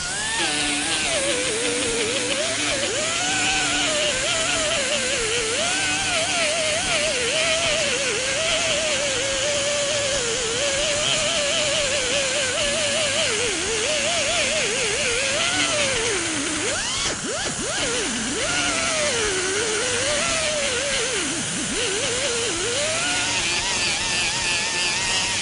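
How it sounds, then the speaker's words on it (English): A grinding wheel with 50 grit abrades a car body panel to clean it, producing a continuous, loud, harsh grind whose pitch wavers up and down as pressure shifts, with no talking. "We'll start to clean up the area just by using 50 grit on a grinding wheel"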